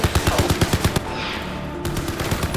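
Crysis 3 machine-gun turret fires rapid, loud bursts of evenly spaced shots, then pauses briefly before a few more shots resume; no talking.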